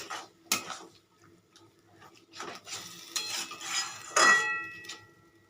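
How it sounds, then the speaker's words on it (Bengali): A spoon clinks and scrapes against a pan while chicken masala is stirred with water over a low gas flame, with irregular metallic taps and scrapes, close and fairly faint, with no voices. "জল দিয়ে মশলাটা কষিয়ে নেব"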